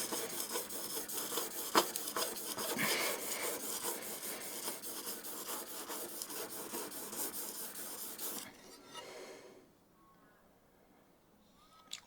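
Scraper plane blade honed on a fine sharpening stone: steady rhythmic rasping strokes back and forth, close and fairly loud, stopping near the end and leaving quiet room tone.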